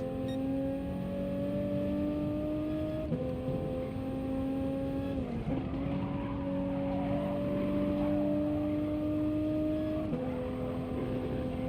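A Toyota Supra race car engine in the Gran Turismo racing game drones loudly and continuously, its pitch climbing through each gear and dropping at every shift.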